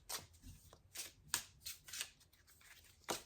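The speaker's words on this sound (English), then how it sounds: "Let me shuffle that again." Tarot cards shuffled by hand, a quiet series of crisp riffling bursts and soft flicks in an uneven rhythm, close and alone.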